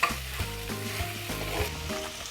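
Ginger-garlic paste sautéing in a pan for chicken korma, a dense close sizzle with repeated scraping strokes from a spoon stirring at a steady rhythm.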